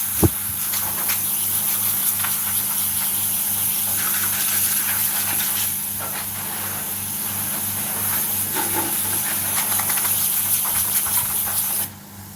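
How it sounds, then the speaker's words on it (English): Air compressor nozzle blowing dust off a dense hardwood woodturning piece, a steady close hiss of rushing air lasting about twelve seconds and cutting off sharply at the end. "the reason I'm using the air compressor is to get rid of any dust"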